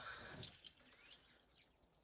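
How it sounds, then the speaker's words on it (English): Water is poured slowly from a scoop onto a part of a Dodge D300 dump truck, trickling faintly and breaking into light drips. "So I'm just gonna scoop some water up, pour it slowly on there,"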